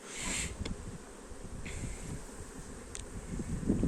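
Steady honeybee buzzing during a beehive inspection fills the clip, a continuous low drone with a few brief higher whines passing through, fairly close and without talk.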